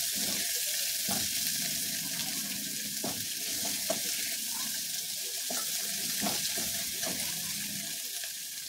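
Chopped red onion fries in a pan on high heat for a potato bhaji, a steady hissing sizzle with occasional scraping stirs, close and moderately quiet, no voices.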